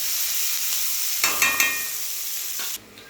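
Onion frying and being stirred in a pan, cooking for a Maharashtrian raw jackfruit curry; a steady loud sizzle with a few sharp spatula scrapes mid-way, then the frying cuts off abruptly near the end.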